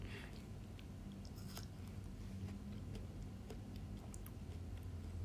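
Chewing during a livestream: soft crunching and small clicking bites come up close at a low level over a steady background hum, with no talking.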